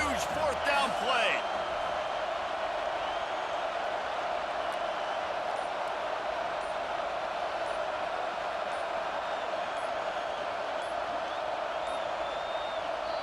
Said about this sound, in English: this crowd bringing serious noise on this huge fourth down play.